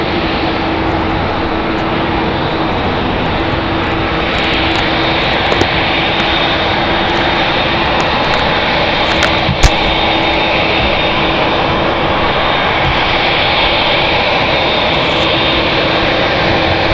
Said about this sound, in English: We're gonna have Air Canada taxi right in front of us, going to Toronto.